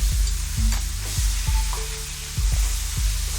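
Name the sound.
curry powder, black pepper and salt sizzling in hot pan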